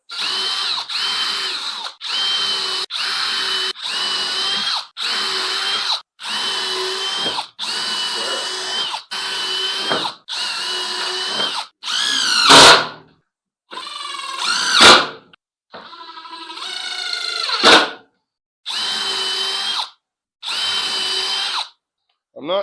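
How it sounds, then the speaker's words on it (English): A power drill running on an old Ford Mustang in a series of short bursts, roughly a dozen near, loud whirs separated by brief pauses, with a few harsher, rising spurts toward the end. "I think I gotta go back down there with the drill."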